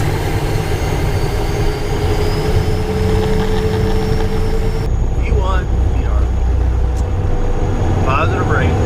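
From the cockpit of a Cessna Citation I, the jet engines give off a steady, loud drone during the takeoff run while pilots talk over it.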